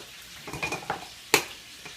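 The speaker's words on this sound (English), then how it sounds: "And then you want to mix that up good." Ingredients stirred and mixed in a bowl, soft scraping and clinking strokes in a short quiet sequence with one sharper knock of utensil against the bowl.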